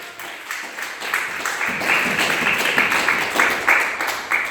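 Church congregation clapping hands together, a dense, rhythmic patter of many hands that builds and holds steady, heard up close and loud.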